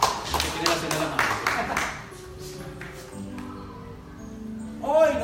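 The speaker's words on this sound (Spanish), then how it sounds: "un aplauso." Several sharp claps ring out in the opening seconds, a brief round of scattered applause at a church sermon that fades as a voice carries on speaking.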